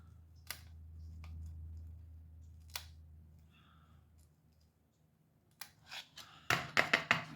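False eyelash strips are trimmed with scissors in a quiet room, giving a few sparse, faint snips early on, then a quick cluster of sharper, louder cuts near the end.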